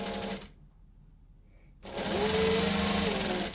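Sewing machine stitching and back stitching while making a quilted table runner: a brief motor run, a pause of silence, then a louder sustained mechanical whir with pitch shifts as direction changes, close up.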